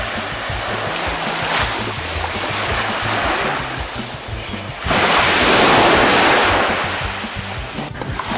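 Rushing wind and crashing ocean surf roar steadily on Rodrigues island, swelling louder in the second half, with a low rumble of buffeting air throughout.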